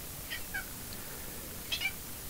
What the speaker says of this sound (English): You might hear my cat